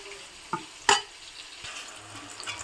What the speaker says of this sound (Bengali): গোটা পেঁয়াজটাও ভাজা হয়ে যাবে